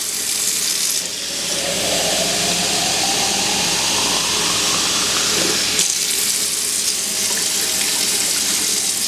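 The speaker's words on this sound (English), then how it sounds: "And I'm adding hot water." Hot water pours steadily from a tap into a large canning pot, a loud continuous rushing and splashing with no talking.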